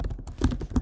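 Computer keyboard typing up close, a quick run of soft key taps and thunks with no talk, short and moderately loud.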